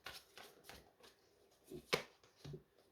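A tarot card deck being shuffled by hand gives a few quiet, soft riffling bursts with a sharper slap near the middle, in an otherwise hushed room.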